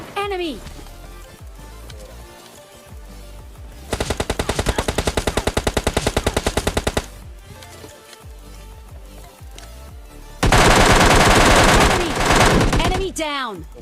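Gunfire in PUBG Mobile Lite: two loud sustained automatic bursts, one fast rattling volley in the middle and a heavier stretch near the end, with quieter game sounds and chatter between them.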